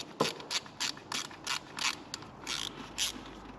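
A ratchet is used to remove parts from a Ford Mondeo diesel engine, about ten quick clicking bursts in an uneven rhythm, close and fairly quiet with no voices.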